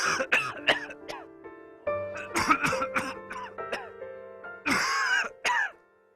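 A person with a persistent, months-long cough that brings up mucus coughs in several hard, throaty bursts, some clustered and some single, with pauses between them and a steady tone underneath.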